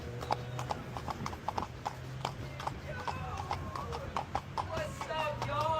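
A horse's hooves clip-clop steadily on a hard surface at a walking pace, moderately near, while someone talks over the top and traffic hums faintly behind.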